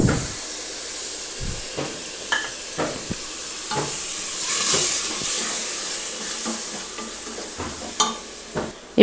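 Biryani masala and yogurt sautéing in a pan for homemade mutton biryani, a steady loud sizzle and hiss broken by repeated scraping stirs of a spoon, close and continuous.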